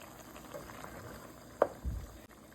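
A pot of water at a steady rolling boil for instant rice in a boil-in bag, a soft continuous bubbling with one brief clunk partway through, heard close and fairly quiet with no talk.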